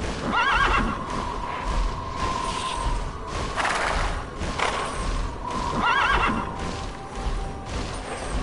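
Horse neighing in the video game TERA, two loud whinnies with a repeated high ringing call, set over steady game ambience with faint hoof clops and a brief thump between them.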